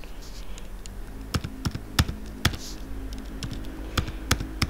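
Someone types a short password on a computer keyboard for a new RetroShare profile. About a dozen sharp, uneven key clicks sound close over a steady low background hum.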